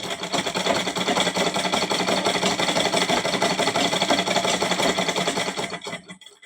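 A sewing machine runs steadily while stitching a small double-folded hem on a jatti garment, a dense continuous whirring rattle that stops abruptly near the end.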